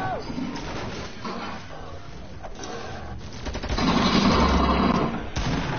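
Video game gunfire crackles in bursts of rapid shots at moderate level, mixed with background game noise and faint voices.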